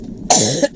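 A single sharp cough, close and loud, lasting under half a second.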